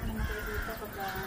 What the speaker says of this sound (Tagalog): Mga uwak, guys.